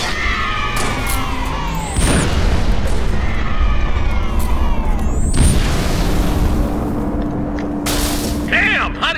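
Artillery fire in the video game Halo Reach sets off loud booming explosions with rumbling blasts and whooshing debris over a dense battle din, while voices shout over the chaos.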